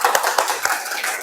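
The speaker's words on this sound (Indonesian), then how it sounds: "Tepuk hebat." A group of students claps together in a 'tepuk hebat' routine during a classroom session, giving short, brisk hand claps in a quick rhythmic cluster, fairly close and steady for about a second.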